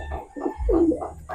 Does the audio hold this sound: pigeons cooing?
yes